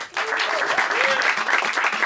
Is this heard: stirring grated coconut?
no